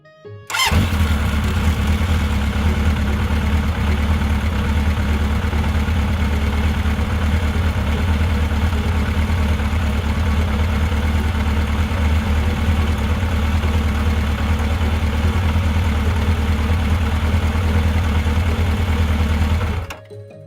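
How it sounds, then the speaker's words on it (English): A toy motorcycle's engine sound runs as a steady, loud, buzzing drone for about twenty seconds, starting and stopping abruptly, with no talk over it. "Motorcycle."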